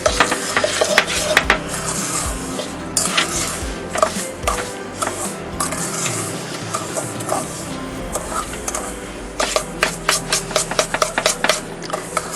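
Coffee sugar scrub mixture being stirred in a bowl, loud close scraping and clinking strokes in quick irregular rhythm, with no talking.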